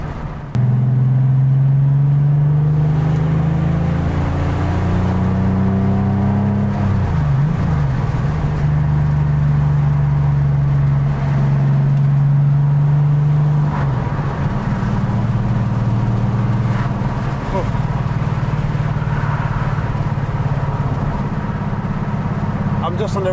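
A Porsche 911 SuperSport driven on an A road, its engine a steady low rumble with a couple of shifts in pitch, running under someone talking throughout.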